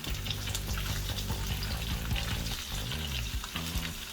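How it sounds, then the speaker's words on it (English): Cabbage stir-frying in a hot pan, a dense, loud crackling sizzle running throughout, with spatula scrapes and knocks over it, close and with no talk. "now what we're gonna do is we are just gonna put in the cabbage"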